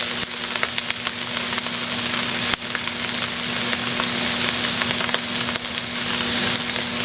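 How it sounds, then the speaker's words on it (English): Mushroom, onion and pepper with ginger sautéing in olive oil, giving a loud, dense, continuous sizzle close by with scattered crackles and two sharp knocks, and no voices. "Now we're going to start adding our vegetable. Got some mushroom. We have our onion and pepper."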